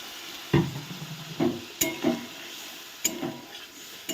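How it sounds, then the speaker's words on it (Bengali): Spice paste frying in oil for a vegetarian paneer curry, with water splashed in: steady sizzle broken by several sharp stirring clatters and bursts, close and fairly loud, no talking. "এবার আমি পরিমাণ মতো একটু জল দিয়ে দিচ্ছি।"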